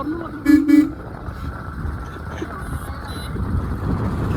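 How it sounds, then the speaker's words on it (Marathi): A car horn gives two short toots near the start, followed by steady road traffic rumble and a couple of faint higher beeps, near Rajgad Fort. "फोर व्हीलर आणि हॉर्न मार."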